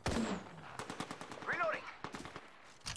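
Rapid automatic gunfire from a weapon in the video game Apex Legends, a dense close burst of shots with sharp game effects, with some speech-like sounds in the mix.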